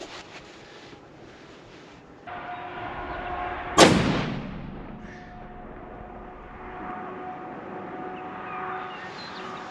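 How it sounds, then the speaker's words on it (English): A single hunting rifle shot fired through a chronograph at a range, one sharp loud crack followed by a rolling echo that fades, with a faint steady hum before and after. "I'd like to shoot at least 6 or 7 shots through the chronograph"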